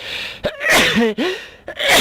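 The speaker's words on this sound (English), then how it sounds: "I'm going to sneeze." A single loud, close sneeze with a sharp inhale before it and a short gasp afterward, heard during a Space Engineers gameplay session.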